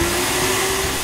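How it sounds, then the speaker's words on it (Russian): A cartoon vacuum cleaner runs in a short sound effect, a loud steady whirring drone with a constant pitched hum that stays level throughout and has no voices. "Это мама пылесосить начала."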